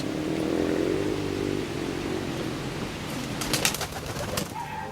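Pigeons coo in a garden, a low, soft, rolling murmur repeated through the first half, with brief sharp clicks and rustles near the end.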